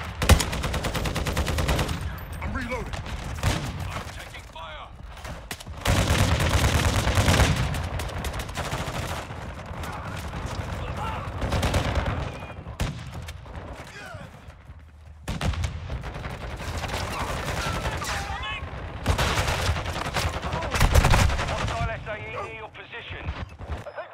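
Gunfire in Call of Duty Modern Warfare 2 (2022) gameplay, dense bursts of automatic rifle fire and heavy shots crackling almost continuously, loud and close, with brief lulls and game voice callouts mixed in.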